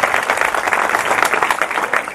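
Church congregation at a Pakistani service applauds loudly and steadily, a dense crowd clapping that stays strong throughout with no gap.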